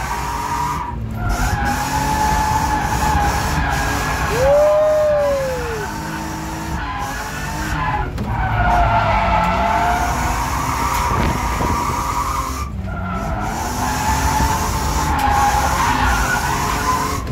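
A car drifts with its tires skidding, a loud, sustained screech of rubber and roaring engine that rises and falls in long passes, close and continuous throughout.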